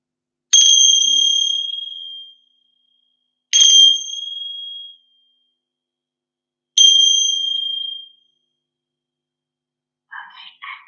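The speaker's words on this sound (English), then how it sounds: "I'm going to just show you again my special yoga bells because we're going to start with 3 rings of the yoga bells" Three separate rings of small yoga bells, each a bright metallic strike that hangs and slowly fades before the next, evenly spaced with silence between, followed by a faint soft sound at the end.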